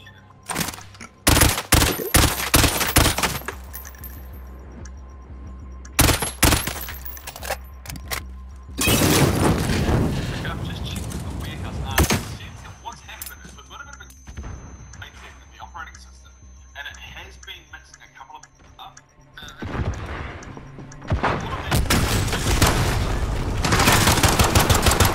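Gunfire in the shooter game Call of Duty: Modern Warfare, several sharp separate shots and short bursts spread through the stretch, loud and close, with players chatting between and over them.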